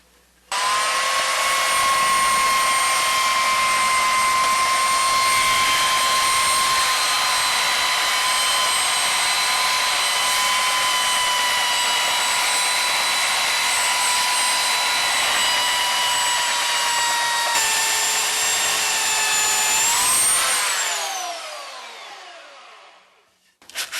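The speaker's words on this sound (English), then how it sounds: "we're going to sand down all these rough edges with the belt sander." A belt sander smoothing the rough edges of a guitar body clamped in a woodworking vise, running as a loud, steady high-pitched whine with a strong tonal drone for about twenty seconds before spinning down and stopping.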